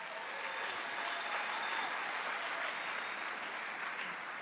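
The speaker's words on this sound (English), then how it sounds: "give yourself a round of applause" A graduating class at a youth academy ceremony applauds itself, a steady, dense wash of clapping from a large crowd that holds at an even level throughout, with no voices standing out.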